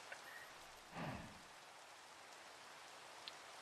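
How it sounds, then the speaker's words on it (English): Rain falling in Minecraft, a soft, even hiss of drops running throughout, with a short low rumbling swell about a second in and a faint tick near the end. "Oh my god, it started raining."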